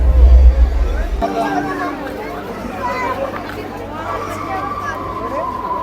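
Crowd at the Santosh Mitra Square Durga Puja pandal in Kolkata, a steady murmur of many voices and children close around, with a person talking nearby.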